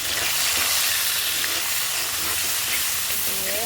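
Spice paste fries with browned onions in a pan for a pointed gourd and hilsa curry, a dense, loud, even sizzle that holds steady throughout with faint stirring beneath.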